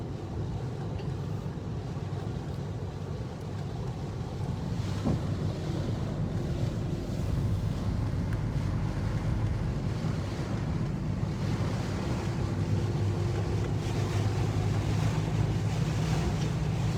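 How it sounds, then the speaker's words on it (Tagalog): Strong typhoon wind and rain in Kalibo, a dense, continuous roar that stays loud and steady for the whole stretch, with no voices. "nababatsagan yun naton ro mabaskog karon nga hangin ag ugan"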